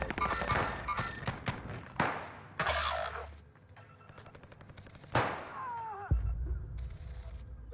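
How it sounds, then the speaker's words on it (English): Rapid video game gunfire, bursts of automatic shots and heavy thuds with crashes, loud and close, with short pauses between volleys. "I'm about to start shooting."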